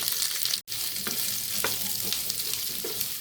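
Onions, chillies and other pieces fry in hot oil while being tempered in a pan for a cabbage dish. A close, steady sizzle runs throughout, with occasional stirring scrapes and one brief cutout.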